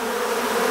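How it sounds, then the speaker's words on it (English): Africanized honey bees around an opened hive make a dense, steady buzz, close and continuous throughout the brief moment. "there are hundreds and hundreds of bees, angry bees,"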